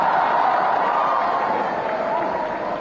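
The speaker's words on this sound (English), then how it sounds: "That should have a bigger applause, ladies and gentlemen." Audience applauding at a cricket team announcement event, a sustained wash of clapping and crowd noise at steady loudness for the whole stretch.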